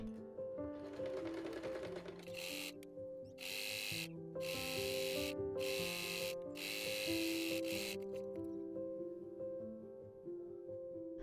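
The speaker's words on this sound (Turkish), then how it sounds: "Tüm pilelerin üzerinden dikiş geçiyorum." A sewing machine stitches across the pleats of a midi dress, its motor whirring in several bursts separated by brief stops, close and fairly quiet, with a soft melodic music bed underneath.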